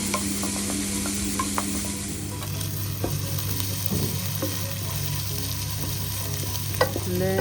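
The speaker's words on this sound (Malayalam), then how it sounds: "ജസ്റ്റ് വഴറ്റിയാലൊന്നും പോരാ, നന്നായിട്ടൊന്ന് ഒരു ബ്രൗൺ കളറാവുന്ന വരെ ഒന്ന് വഴറ്റിയെടുക്കാം" Onions for beef biryani sautéing toward brown in a hot pan, a constant sizzle with regular spoon stirring and scraping, a couple of sharper utensil clinks near the end, under steady background music.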